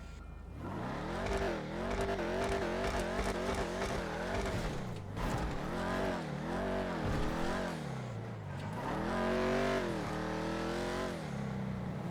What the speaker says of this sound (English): let's take it outside and we will do a sound test and a quick review on the Dominator GTX